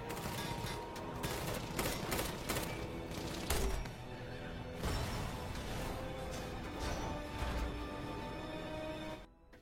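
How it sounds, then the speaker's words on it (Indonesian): Gunfire during a chase scene in the disaster film Ashfall, with repeated bursts of shots and sharp bangs against a dense, loud background of movie sound, ending in a sudden cutoff. "Dan di sini terjadi kejar-kejaran dan juga baku tembak."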